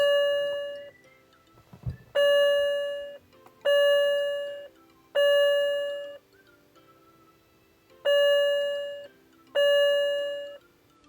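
A repeating two-tone electronic chime from a BMW E90-series instrument cluster warning check rings out six times at a steady pace, each ding bright and clear against a quiet background.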